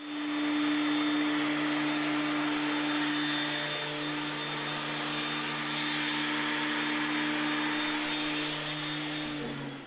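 A wood planer feeding a board through, a loud, continuous motor whine with a steady pitched drone for the full length, swelling slightly as the cut proceeds, with no talking.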